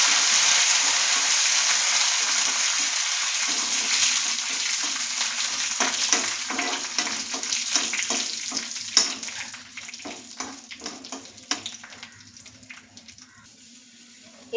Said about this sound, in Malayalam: ഇനി കറിവേപ്പില കൂടി ചേർത്ത് കൊടുത്തിട്ട് ഒന്ന് ഇളക്കി കൊടുക്കാം.